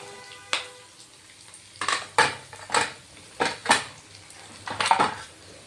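Pieces of nalleru (adamant creeper) are fried and stirred in a pan. A spatula clanks and scrapes against the metal about eight times in an irregular rhythm, close and fairly loud, with only faint sizzling beneath.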